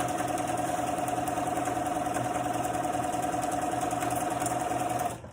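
A Bernina sewing machine fitted with a number 57 quilting piecing foot stitches a quilt strip, a steady continuous whirring hum that runs close and even for about five seconds before stopping abruptly.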